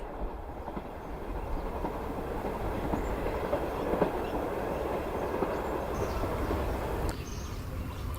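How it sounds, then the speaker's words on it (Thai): A train rolls steadily past Ban Pok Paek railway station in Thailand, giving a continuous close rumble with faint rhythmic wheel clatter, birds chirping lightly in the background and no voices. "ขบวนนี้ผ่านสถานีบ้านปอกแป๊กไปนะครับ"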